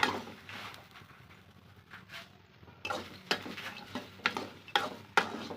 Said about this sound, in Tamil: நல்லா ஒரு மூணுலேருந்து நாலு நிமிஷம் போல் நல்லா நம்ம வறுக்கணும்